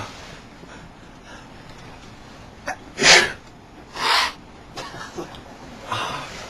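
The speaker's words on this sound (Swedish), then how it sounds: "Nysa nu." A person sneezes twice in quick succession, each burst sharp and close, with quieter breaths and small sniffs scattered around them.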